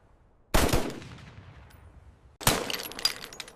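A German MG-42 machine gun firing at about 1,200 rounds per minute, heard as two sharp, loud bursts with a ringing decay after each.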